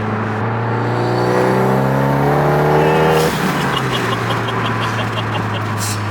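A big-turbo 2015 VW Golf GTI pulls hard under boost, its engine note climbing loud and close for about three seconds before a gear change drops the pitch and the car keeps driving on.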